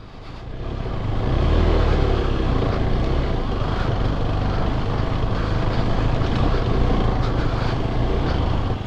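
A motorbike engine drones loudly and steadily as it pulls hard up a steep mountain road on a trip to Sikkim, the roar close and continuous with wind noise and no talking.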